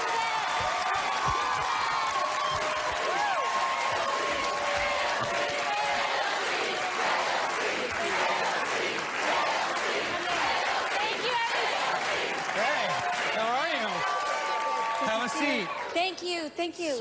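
A studio audience applauds and cheers loudly as a guest is welcomed, a dense continuous roar of clapping with whoops that holds steady and then tails off at the very end.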